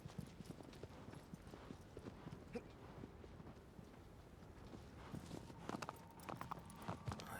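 A horse's hooves clip-clop at a steady walking rhythm in the video game Shadow of the Colossus, the regular, moderately close thuds growing slightly busier toward the end.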